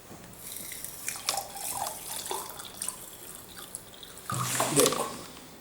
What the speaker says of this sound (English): I am putting the water into that.